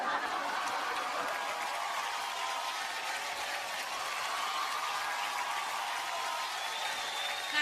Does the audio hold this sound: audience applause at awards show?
yes